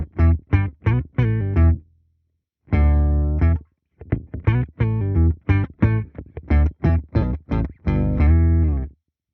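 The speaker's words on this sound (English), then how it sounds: "this is a device that lets us have control over 3 different octaves of my guitar signal" Guitar fed through a Chief OC2 octave pitch effect in CorOS plays a riff of repeated staccato notes and short sustained chords, its tone thickened by layered octaves, loud and close, with no talking.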